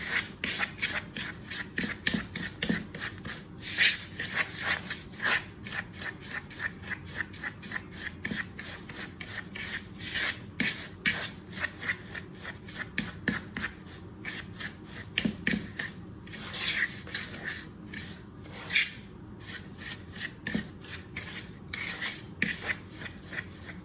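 A fork mashing clumps of butter in a bowl for chocolate chip cookie dough makes steady, quiet rasping and scraping strokes in a continuous rhythm, close and alone.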